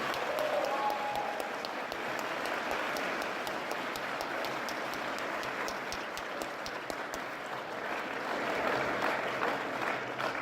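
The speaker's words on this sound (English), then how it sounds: "Let's give them a big round of applause." A banquet audience at an engineering student design competition claps in a steady, dense round of applause that holds evenly throughout.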